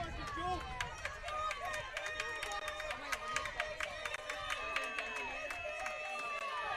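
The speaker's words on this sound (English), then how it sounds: "Crowd coming to life on both sides." Spectators at an NCAA college softball game between Saint Joseph's and Fordham at the Billiken Sports Center cheer and clap from both sides, a steady broad crowd roar with scattered sharp claps and calls throughout.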